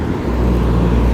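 A loud car passes close by during a live outdoor Pokémon GO raid hour, a continuous heavy engine and tyre roar filling the whole moment with no talk over it.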